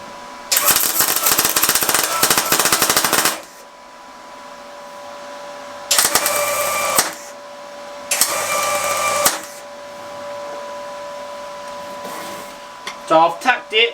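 Tack welds on a homemade anchor set in a jig, with harsh crackling buzzes in three bursts of a few seconds each between quieter stretches of background hum, close and loud, with a short clatter near the end.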